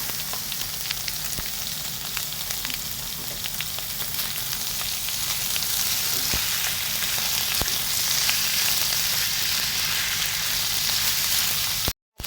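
Chicken and squid balls fry in a pan for pancit bihon, a steady close sizzle with a few crackles and pops and no talking.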